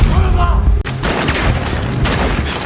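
A loud gunshot in a film scene, a sharp close blast followed by a second impact amid a dense, noisy action soundtrack.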